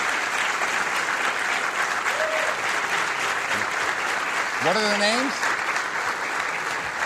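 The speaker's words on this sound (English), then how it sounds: "Let's give a nice round of applause for them" A studio audience at a late-night talk show gives a sustained round of applause, dense and steady throughout, with a host's voice talking over it.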